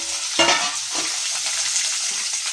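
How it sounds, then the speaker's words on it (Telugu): Onions fry with tempering spices in a pan, making a dense, close sizzle with a few sharper crackles and stirring scrapes over a steady hiss. "ఈ పోపులు వేగేసుక ఉల్లిపాయలు కూడా వేసేసుకోండి"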